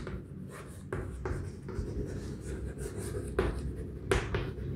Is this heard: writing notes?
yes